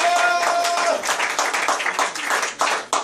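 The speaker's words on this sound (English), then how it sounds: "give him a round of applause and a shout" A church congregation claps and cheers in praise, loud rhythmic clapping with shouting voices filling the short burst.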